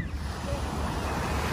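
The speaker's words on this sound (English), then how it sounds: "we have some really rough water today" Rough surf breaks along the shore at the very tip of Door County, a steady, continuous wash of waves with gusty wind rumbling over the microphone and no clear gaps.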